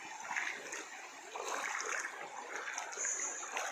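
Water splashes and streams steadily while soap is rinsed off during an outdoor bath, a close continuous wash of spatter with no talking.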